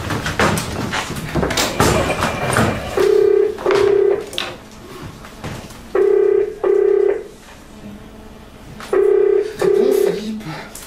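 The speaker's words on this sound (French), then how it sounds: "Martin, chez lui, au téléphone, avec Philippe" Telephone ringback tone from a phone call in a live French theatrical improvisation: clear, steady paired tones repeat three times with quiet gaps between, following a stretch of talking and stage noise at the start.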